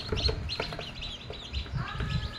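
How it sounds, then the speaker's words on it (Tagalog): Ten newly hatched black meat chicken chicks in a homemade egg incubator peep and cheep close by, a quick irregular chorus of high chirps layered over each other, with no talking. "So meron tayo 10 bagong pisang mga black meat chicken dito yung mga sisiw natin."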